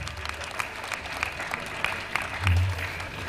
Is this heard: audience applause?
yes